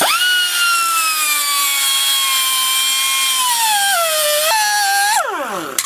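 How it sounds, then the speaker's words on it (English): An air grinder cuts into a car's rear wheel bearing race, a loud, sustained high-pitched whine that sags in pitch under load, then winds down and briefly spins back up before stopping. "So get an air grinder and cut the race in half."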